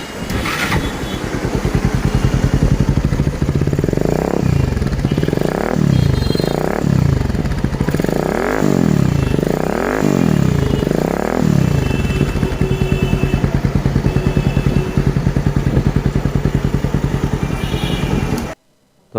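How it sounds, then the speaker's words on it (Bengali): A modified Bajaj Pulser 150cc motorcycle, rebuilt as a naked cafe racer, idles loudly and close up, with a series of five or six sharp throttle revs rising and falling before settling back to a steady idle, no talking. "এখন একটু সাউন্ডটা শুনেন বাইকের আপনারা"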